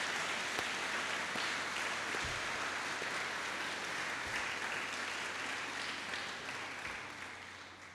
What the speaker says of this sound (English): we owe them a tremendous round of applause